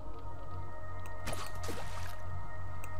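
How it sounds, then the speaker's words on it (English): Arrows splash into water in the video game Delver, giving a couple of quick wet squishing splashes close together over a steady low game hum. "What's splashing in the water?"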